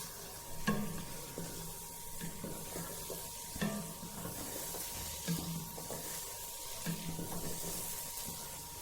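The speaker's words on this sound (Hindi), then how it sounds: "हलवे को भूनते हुए 3 से 4 मिनट हो गए हैं।" Semolina halwa roasting in oil in a pan, a steady soft sizzle with periodic scraping stirs of a spoon, close and continuous with no talking.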